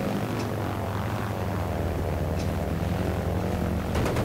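Propeller fighter planes in Battlefield 1943 drone steadily and loudly, a continuous engine roar with brief whooshing bursts as aircraft pass close.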